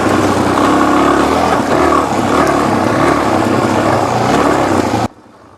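A Suzuki DRZ400 dual-sport motorcycle rides an OHV park trail, its single-cylinder engine droning loud and steady up close before cutting off abruptly near the end.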